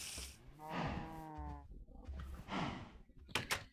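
Cows mooing in the Minecraft video game, two or three low, drawn-out moos close by with brief game noises between them.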